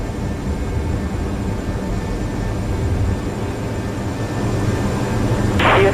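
Boeing 747 Classic cockpit on approach during a Qantas flight from Sydney to San Francisco, with a steady loud roar of engines and airflow throughout and a short bright tone near the end.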